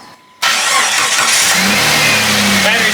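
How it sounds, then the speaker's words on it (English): After a brief quiet moment, a used starter motor on a Jeep Grand Cherokee with a somewhat weak battery cranks loudly and steadily at close range for several seconds. "Battery sounds a little weak, but the starter does work."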